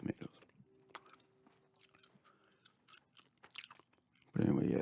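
Soft, close gum chewing with small wet smacks and crunchy bites in an irregular rhythm, quiet overall, ending in a burst of louder noise.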